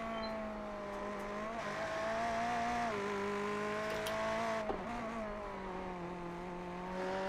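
A BMW race car engine in the iRacing sim drones steadily and loud throughout, its pitch dipping briefly with gear changes or lifts before climbing again.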